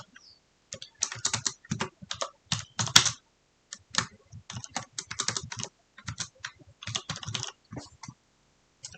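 Rapid bursts of keystrokes on a computer keyboard as text is typed, close and clear, in uneven clusters with brief pauses between runs and no voices.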